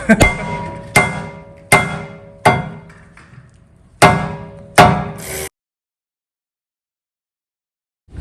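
A rubber hammer strikes the brake rotor of a 2018-2020 Honda Accord six times at uneven intervals, each a sharp, loud knock with a short ringing decay, followed by silence.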